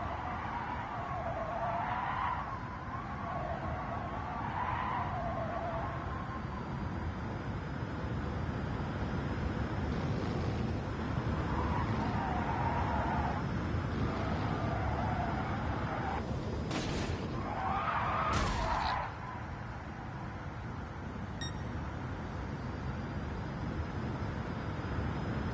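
A 2023 Tesla Model 3 Performance lapping a track on worn-out tyres, with repeated tyre squeal and skidding bursts over steady road and wind roar heard from inside the car, no talk.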